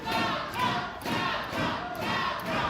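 Wrestling crowd at an independent ACW Proving Ground show, cheering and roaring in steady loud swells that rise and fall roughly every half second, with no one talking.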